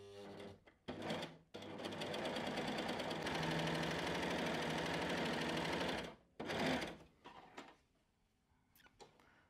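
A Bernette b68 Maker coverstitch machine stitches fabric in a fast, close mechanical whir. Short bursts of stitching lead into a long steady run, followed by quieter clicks of handling.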